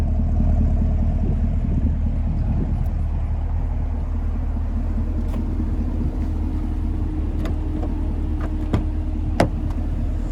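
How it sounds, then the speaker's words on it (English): A 2020 Chevrolet Camaro LT1 convertible's multi-mode exhaust rumbles steadily at idle with a deep, even drone, close by, with a few faint clicks partway through. "And there's your multi-mode exhaust there."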